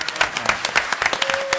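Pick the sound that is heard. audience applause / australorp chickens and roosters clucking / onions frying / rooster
audience applause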